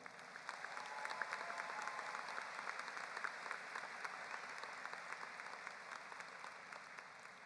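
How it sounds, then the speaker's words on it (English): Audience applause at a 2025 West Chicago Community High School graduation, greeting a named graduate enlisting in the military; steady, dense clapping from a large crowd throughout, moderately distant and even. "You may applaud after each individual name."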